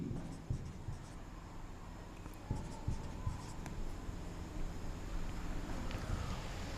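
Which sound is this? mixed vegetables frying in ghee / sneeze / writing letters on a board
writing letters on a board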